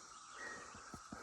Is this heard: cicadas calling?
yes